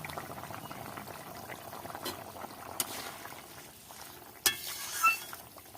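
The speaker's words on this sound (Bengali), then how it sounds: "এখন আমি দিয়ে দেবো জল, দিয়ে দেবো এক এক করে।" Water is poured into a pot of fried potatoes seasoned with salt and turmeric, a steady low splashing and sizzling with a few metallic clinks of a utensil near the end.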